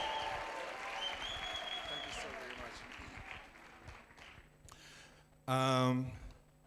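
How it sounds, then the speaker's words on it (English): An audience at a youth empowerment event gives a round of applause and cheers as a speaker is introduced, the crowd noise fairly faint and fading, before a loud voice speaks close by. "A huge round of applause for Yase Godlo."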